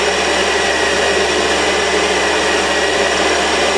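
A Warco WM180 lathe with a variable speed feed motor takes a cut on metal, giving a loud, steady machine whirr and hiss that holds an even level throughout with no talk.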